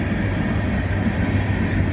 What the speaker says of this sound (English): Train going by